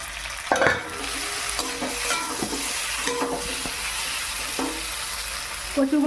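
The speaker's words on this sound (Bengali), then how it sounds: "আর একটু ভালো করে ভেজে নেই।" Taro pieces fry in a pan while a spatula stirs them. A constant close sizzle runs under repeated scraping strokes and clinks against the pan.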